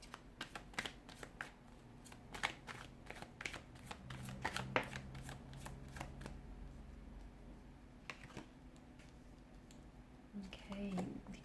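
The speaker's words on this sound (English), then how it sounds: "let's go ahead, give the cards a shuffle" Tarot cards being shuffled in quick bursts of crisp riffling and flicking, close and fairly quiet, with soft pauses between handfuls.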